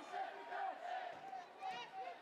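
A sold-out crowd at Prince's Park during a London City Lionesses vs Arsenal women's football match roars steadily, with voices chanting and swelling in waves throughout.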